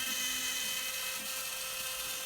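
A CNC machine cutting at a very shallow depth of 0.06 inch while making a right-angle squaring jig in a shop, a steady high-pitched whine and whir that holds constant and loud throughout.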